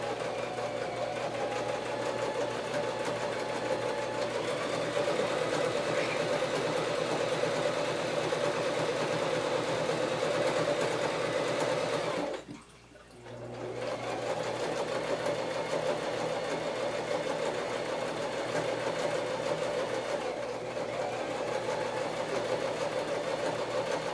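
A sewing machine stitches a handbag in one long, steady, humming run that drops out for a moment halfway before resuming at the same even level.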